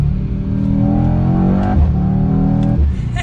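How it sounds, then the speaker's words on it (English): A BMW M8 Competition Gran Coupe in race mode, all-wheel drive, with a loud, steady engine drone and exhaust note that rises and falls, broken by brief crackling pops near the end of a short close pass. "you can hear the pops in that exhaust."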